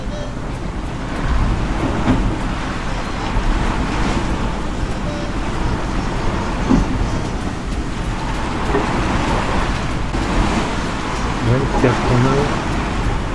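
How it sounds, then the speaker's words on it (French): Gusty wind around 22 knots roars steadily over a sailboat, with a broad rushing wash of air and water that swells and eases in gusts throughout. "Ouais, ça souffle un peu par rafale. 22 nœuds."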